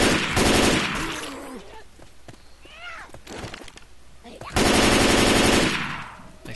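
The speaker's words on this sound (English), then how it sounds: "This shotgun will put the hurt on them zombies." Rapid bursts of shotgun fire in Left 4 Dead 2, loud and dense, come in two heavy volleys separated by a quieter stretch with scattered shots and other game sounds.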